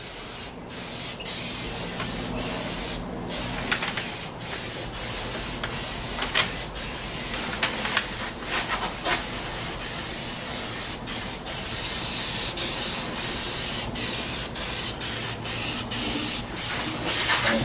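Rattle can etch primer hisses steadily onto a 2000 Ford F-150 part, a continuous close spray broken by brief pauses between passes, with no voices.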